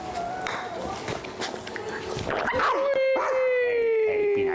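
A dog named Piper yips and whimpers on a golf course, with a person calling it and talking over light footsteps and outdoor noise.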